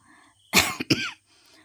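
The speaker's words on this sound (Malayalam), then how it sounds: "ഞാനിത് പറഞ്ഞുകൊണ്ടിരിക്കുമ്പോൾ തന്നെ എനിക്ക് ചുമ വരുന്നുണ്ട്" A woman recovering from a fever, cooking at home with coconut milk, gives a short, close, loud cough in two quick bursts, with quiet room sound before and after.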